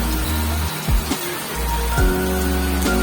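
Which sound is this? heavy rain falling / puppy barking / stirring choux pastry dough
heavy rain falling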